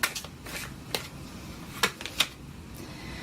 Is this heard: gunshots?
no